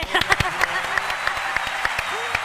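Applause from a television studio audience, a patchy burst of close, sharp claps that overlap loosely, with voices talking over the clapping.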